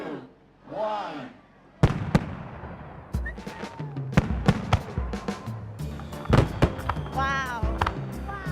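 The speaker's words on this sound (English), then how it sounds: "I like the fireworks because it's pretty cool, and especially that part, it was really loud." Fireworks bursting at the Fire and Ice Festival in Kensington Metropark: a rapid series of sharp, loud explosive cracks and booms after a brief lull, with crowd cheers, whistles and voices running beneath.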